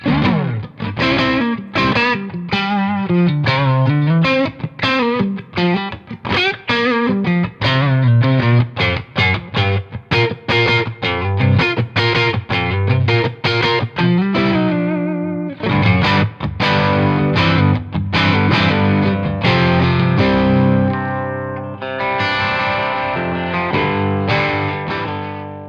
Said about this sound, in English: plug a single coil guitar in, and essentially get yourself these low to mid gain bluesy tones out of it